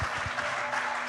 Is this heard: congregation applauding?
yes